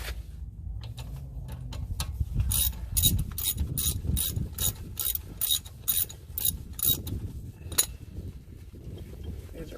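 Ratchet wrench clicking and metal clinking while loosening bolts on the rear brakes of a 2016 Acura TLX, a run of quick ratcheting bursts close up with a few sharp metallic taps, no talking.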